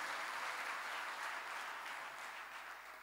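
A church congregation claps in response to a preacher's call to praise God, giving a steady, fairly faint wash of applause that fades slightly over three seconds, with no speech over it.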